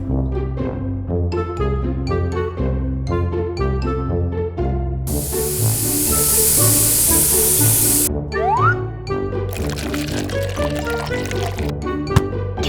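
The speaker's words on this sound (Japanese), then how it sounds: "shower" A shower runs in a household setting, a broad hiss of spraying water rising over background music for a few seconds, then stopping, followed by another short burst of splashing water.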